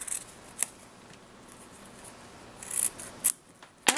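Scissors cut through ribbon wrapped around a bag, a handful of crisp, close snips scattered across a few seconds in an otherwise quiet space.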